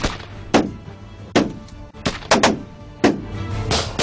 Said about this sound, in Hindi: स्ट्रेट फायर किए जा रहे हैं।